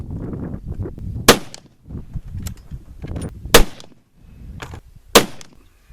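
A .30-06 rifle fires three single shots about two seconds apart, each a sharp, loud crack with a short decay, over quieter rustling and low handling sounds outdoors.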